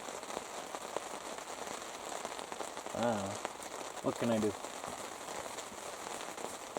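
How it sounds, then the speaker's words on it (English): Steady rain falls continuously with a fine, even patter, fairly close, as a person speaks briefly over it partway through. "just try and let this rain pass."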